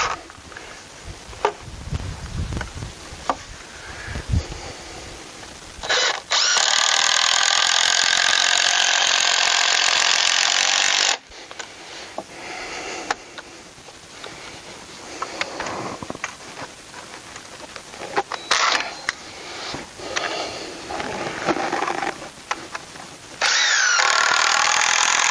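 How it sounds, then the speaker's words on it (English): Power drill driving screws into wooden deck boards, heard as several long, loud whirring bursts of several seconds each, separated by shorter handling noises and clatter, close by with no talk. "just shoot a screw in on the end of this one into this board."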